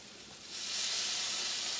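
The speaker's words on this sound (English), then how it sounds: "Just saute it a little bit to release the flavor before I add it" Minced garlic sautéing in a pan for homemade lasagna, a soft broadband hiss that swells after a moment into a steady, close sizzle with no talking.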